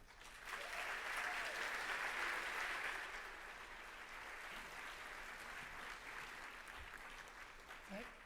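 Applause from a gala audience at an International Medical Corps honors event, greeting the founder and chairman with a broad, sustained wash of clapping that swells and then settles, heard at a distance and fairly faint.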